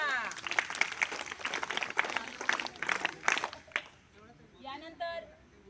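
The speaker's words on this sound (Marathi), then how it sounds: "कोल्हे मॅडम टाळ्या" A school audience claps for Mrs. Kolhe at an event honouring Savitribai Phule, a short burst of brisk applause that fades out, followed by a brief murmur of voices.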